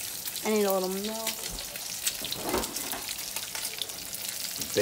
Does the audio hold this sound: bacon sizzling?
yes